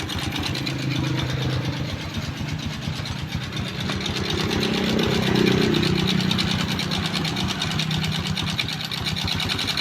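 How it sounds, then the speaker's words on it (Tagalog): A Honda engine idles with a noisy timing chain, a steady rapid ticking clatter over a medium-pitched running drone that swells slightly midway, heard close and continuous with no talking. "Pakasan mo ang tunog ng makina."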